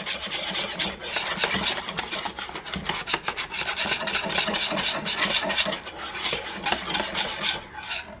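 A wire whisk scrapes and rasps steadily through thickening vegetarian, vegan-friendly pot pie filling in a pot, a continuous close rubbing stir with rhythmic strokes and no talking.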